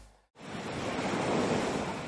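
Waves wash continuously onto the Azov Sea shore at Mariupol, a full rushing surf noise that begins abruptly after a brief quiet moment and holds steady and fairly loud.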